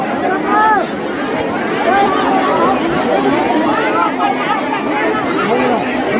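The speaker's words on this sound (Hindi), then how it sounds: "बहुत ज़्यादा ही भीड़ है संगवारी हो।" A large crowd of devotees chatters at Pendri pond in Mungeli, a dense, steady hubbub of many overlapping voices close by, continuous from start to finish.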